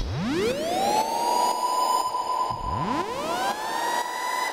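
A synthesizer tone that sweeps upward like a siren, rising twice and holding a bright sustained pitch, loud and alone with no talking.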